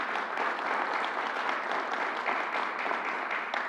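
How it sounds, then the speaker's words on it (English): Sustained audience applause at a New York City announcement event, a dense, steady wash of many hands clapping from a crowd, fairly even in loudness throughout with no talk over it. "Let's give her another round of applause."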